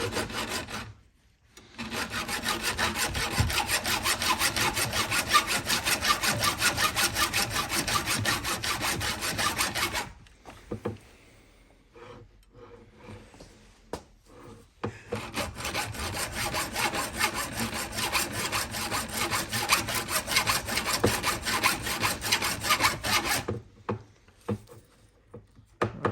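A hacksaw cuts through a 1:18 scale Holden Monaro model car in fast, loud back-and-forth strokes, with two long bursts of sawing separated by a short pause and a few scattered scrapes.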